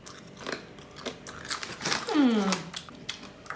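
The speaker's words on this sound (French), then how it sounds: "Genre ça croustille, mais on sent vraiment le goût du légume." Crisp bites and chewing of dried tomato and zucchini vegetable crisps, close and loud, with several sharp crunches followed by steady mastication and a brief vocal hum midway.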